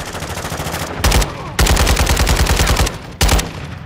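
Loud, close automatic rifle fire in a Call of Duty-style shooter, three rapid bursts of hard cracking shots, the longest lasting over a second, separated by brief quieter gaps.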